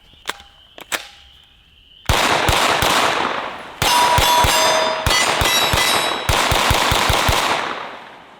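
A Beretta CX4 Storm 9mm carbine fires in rapid strings of sharp, loud shots close by, with a few isolated clicks first, then several quick bursts separated by brief pauses, metallic ringing trailing the reports.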